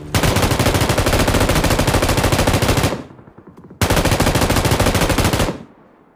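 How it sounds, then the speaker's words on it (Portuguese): Two long bursts of rapid automatic gunfire from a shooter video game, loud and close, each about three seconds long, separated by a short pause. "Atirando em mim ali."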